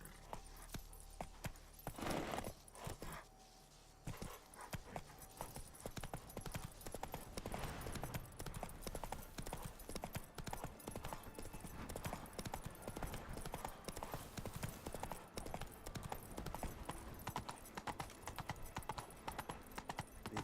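Roach the horse trots in Witcher 3, hooves clip-clopping in a dense, even rhythm that carries on steadily for the whole stretch, fairly faint, with no talking.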